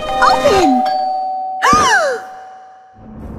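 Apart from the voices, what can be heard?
doorbell ringing in Minecraft video game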